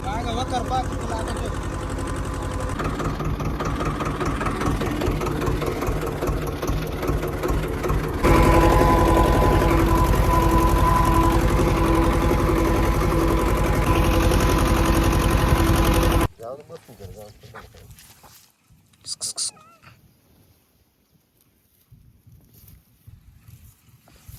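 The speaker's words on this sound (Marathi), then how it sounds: "चालू ट्रॅक्टर सोडून गेलो होतो" A tractor engine idles warm, a steady close rumble that grows louder partway through and then cuts off abruptly. Faint scattered noises follow in near silence.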